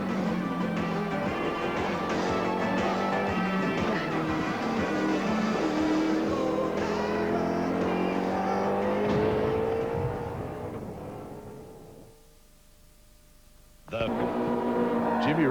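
A race car engine, Jimmy Richards' car, screams at Eastern Creek in 1993, held steady at high revs and then fading as it pulls away. The engine cuts out briefly and comes back sharply near the end.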